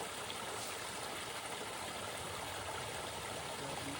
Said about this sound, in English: Here's a little waterfall for your enjoyment.